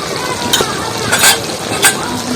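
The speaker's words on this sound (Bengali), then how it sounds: "এবার জিরে গুঁড়োটা তরকারির মধ্যে একদম ফেটে নেব" A spoon stirs cumin powder into a vegetable curry with yardlong beans and lentil dumplings in a pan, giving a few scraping clinks over a steady close sizzle, with no speech.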